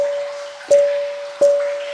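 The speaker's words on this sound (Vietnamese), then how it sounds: "cái cục đá này mà tôi đánh nghe tiếng chuông" Two sharp strikes on a stone ring out with a clear, sustained bell-like tone that hangs steadily between hits, evenly spaced and fairly close.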